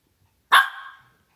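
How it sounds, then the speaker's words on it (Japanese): Indoors, a dog lets out a single sharp, loud bark that rings briefly and decays, surrounded by near silence. "急に吠えないで、ちょっと物音しただけじゃん。"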